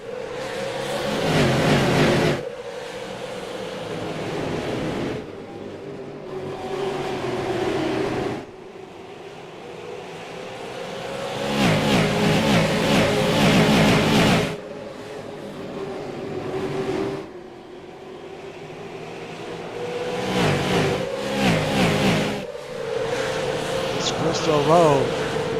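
Super Late Model race cars in the iRacing simulator roar off the line at the start of an ESL race, a dense pack of engines revving and droning steadily, with a voice talking over them throughout.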